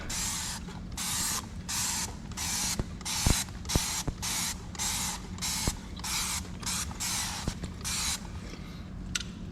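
Platinum Power Wash cleaner is sprayed onto brakes in a quick series of short, hissing bursts, around a dozen of them, with brief pauses and small clicks between the pumps.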